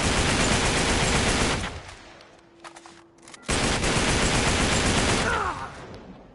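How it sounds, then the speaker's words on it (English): Sustained loud automatic gunfire in Uncharted 3: Drake's Deception, a dense fusillade that breaks off briefly for a quieter moment before resuming at full volume. "I'm just firing."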